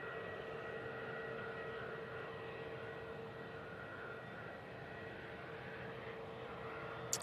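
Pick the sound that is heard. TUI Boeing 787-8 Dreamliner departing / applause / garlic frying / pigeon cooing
TUI Boeing 787-8 Dreamliner departing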